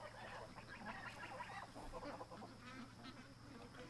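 Ducks quack and honk at a bathtub, giving short repeated calls over a low steady hum. The calls are faint and come in a rough cluster.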